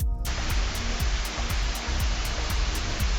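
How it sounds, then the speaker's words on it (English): Steady heavy rain beginning to fall and pouring down, a dense, continuous hiss with low rumbling underneath that sets in abruptly and stays loud and even throughout. "Then the rain began."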